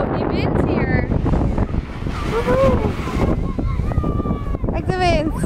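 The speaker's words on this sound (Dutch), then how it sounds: "Wow, die wind hier." Strong wind at a beach roars and buffets the microphone continuously, mixed with surf and voices talking over it.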